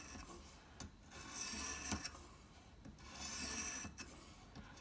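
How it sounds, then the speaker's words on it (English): A knife drawn along a 3000 grit stone on a Ruixin Pro guided sharpener makes close, rhythmic rasping strokes, about four passes, each a soft scrape with brief clicks between. "now with the 3000 grit, the final pass, I'm doing from the tip to the"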